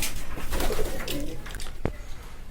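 Pigeons coo softly and repeatedly against a steady background hum, with one short sharp sound near the end.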